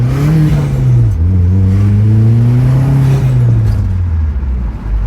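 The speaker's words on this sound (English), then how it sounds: "good to be back driving it and making turbo noises" A turbocharged Vauxhall Zafira GSI engine pulls hard through the gears, its rising drone and whirring spool steady and close, with no talking.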